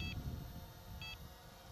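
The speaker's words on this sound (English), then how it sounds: "until you get the beeping of the transmitter" Two short electronic beeps from a quadcopter's radio transmitter, about a second apart, faint over a low background rumble.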